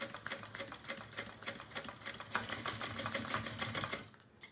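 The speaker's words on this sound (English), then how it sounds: "I'm going to make sure I backstitch very well" A sewing machine stitching down the center of a bag and backstitching, a steady fast mechanical chatter of needle strokes running for about four seconds before easing off at the end.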